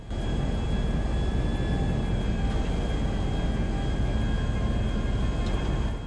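A large airliner's engines roar steadily throughout in Grand Theft Auto V, a loud, constant broadband drone with a faint high whine on top and no talking.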